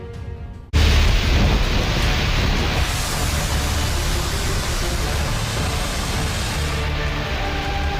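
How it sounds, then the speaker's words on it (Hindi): Heavy monsoon rain during severe flooding in Maharashtra, a loud, dense, continuous roar of downpour that starts abruptly after a brief quieter moment and holds steady throughout, with no voices. "आसमान से बरस रहा पानी हर पल लोगों को डरा रहा है"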